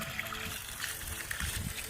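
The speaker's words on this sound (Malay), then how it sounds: "So kita flush tangki yang dalam outdoor." Water flushing out of an outdoor water filter tank: quiet trickling and splashing with irregular gushes and small spatters, faint and close, swelling briefly toward the end.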